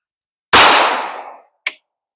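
.380 Hornady hollow point round fired into ballistic gel: a single loud, sharp gunshot with a decaying tail, followed about a second later by a short, fainter metallic clink.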